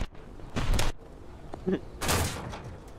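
Gunfire from a Tasse aircraft in the video game War Thunder, heard as two separate loud bursts a moment apart amid quieter engine background, with a brief voice between them.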